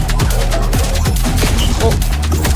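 Rapid gunfire from the roguelite shooter Void Breaker, steady loud bursts of automatic shots with heavy low thumps running continuously from start to finish.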